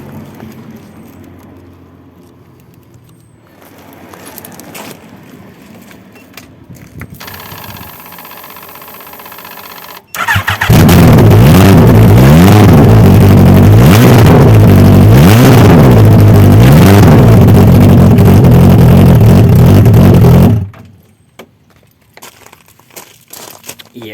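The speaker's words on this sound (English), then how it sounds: "it'd be rude not to start the car up with an open exhaust on" A turbocharged car with an open DIY turbo exhaust fires up after some quiet fiddling, then roars loudly with repeated revs rising and falling for about ten seconds before cutting off abruptly.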